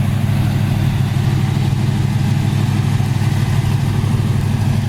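The engine of a 1974 Plymouth Duster idles slightly fast, a steady, loud, close low rumble with an even throbbing pulse and no variation in speed.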